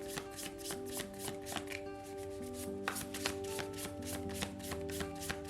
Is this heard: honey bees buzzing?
no